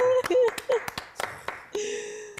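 Scattered hand claps ring out at the finish of a 10 km run, a handful of sharp, close slaps in an uneven rhythm, while people talk and cheer around them.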